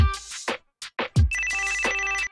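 A smartphone rings with an incoming call in an anime-style mobile game scene: a steady electronic ringtone with sustained tonal layers, preceded by short bursts of speech.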